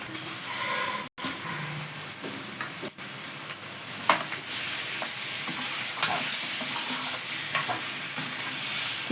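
Chicken pieces sizzle and fry in a hot pan for a gravy while being stirred, a loud, steady hiss broken by scraping stir strokes and two brief dropouts, with no talking.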